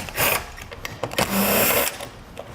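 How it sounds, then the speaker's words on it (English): A T30 Torx bit on a power driver removes two screws beneath the hatch for a 2019 vehicle's taillight, producing short bursts of close, loud whirring and clicking with brief pauses between runs. "We're going to take a T30 Torx bit, remove the 2 screws underneath their hatch."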